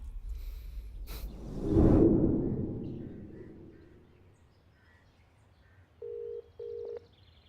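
A whoosh sweeps through before two short electronic telephone dialing beeps sound near the end, clean and close against a quiet background in a dubbed film scene.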